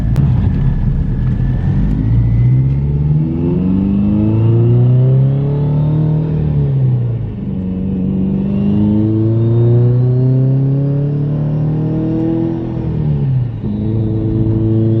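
A car's exhaust rumbles and revs through repeated accelerations, pitch sweeping up and falling back between gear changes, loud and close with no talk over it.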